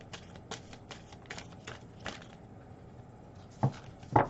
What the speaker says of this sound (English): I'm just going to shuffle a little bit.